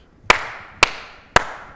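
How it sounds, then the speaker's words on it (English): Three sharp hand claps land in an even, steady rhythm, close and crisp, each with a short ringing tail and no voices. "the next part is a single clap, like we started with"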